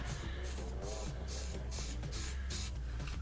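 A soldering iron tip is cleaned with a dense, hissing, scratchy scrubbing noise that comes in quick repeated bursts, close up and continuous, with no speech.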